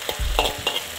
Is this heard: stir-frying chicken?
yes